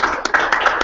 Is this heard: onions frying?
no